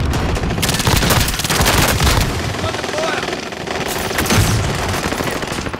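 Rapid video game gunfire rattles in dense bursts amid explosive booms, with a frag grenade blast in the mix during a battle royale match, loud and continuous with brief lulls between volleys.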